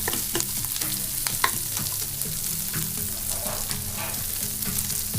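Onions and capsicum sauté in a hot pan, a steady close sizzle broken by frequent scraping and stirring clatters from the spoon.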